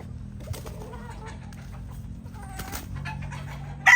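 A white Kelso brood hen from a game farm clucks and coos softly among other birds, with low steady farmyard noise underneath and a sharper bird call near the end.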